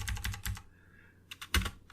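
Computer keyboard typing in bursts of quick, close keystrokes, a short pause in the middle, then a few more taps, with no talking.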